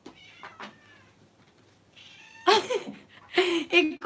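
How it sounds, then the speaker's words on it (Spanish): A pet cat meows repeatedly indoors, with soft early cries followed by louder, insistent meows near the end, heard close and alone without talk. "¿Escuchan los maullidos de mi gata que quiere mimos?"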